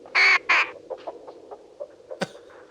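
Crows in the 1963 film The Birds squawk twice, loudly and harshly, then give a series of softer scattered calls and one sharp cry near the end.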